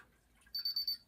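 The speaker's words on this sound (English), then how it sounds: "see now it beeps so now every time I move it's gonna beep" Four short, bright electronic beeps in quick succession from a Paradox alarm keypad, close and clear, with no talking.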